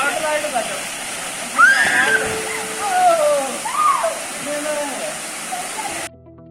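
Rushing water of the Peruvanchanam waterfall at Peringalam, a steady broadband roar heard up close with birdsong and faint voices scattered over it, ending in a sudden cutoff near the close.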